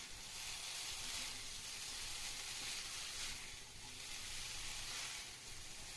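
Egg noodles being tossed and mixed with spoons in a hot pan, giving a steady, close sizzling hiss with soft stirring scrapes throughout and no voices.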